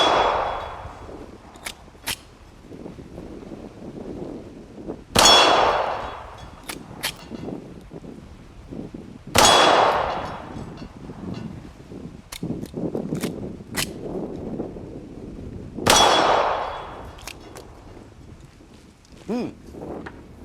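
Walther P38 pistol fired at steel targets on an outdoor range: four loud, sharp shots spaced several seconds apart, each followed by fainter metallic pings, with wind noise and brief voices in between.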